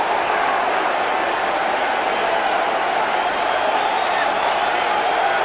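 Aston Villa supporters roar in a football stadium after a goal, a steady, loud wash of crowd cheering that holds without break, with a commentator talking over it.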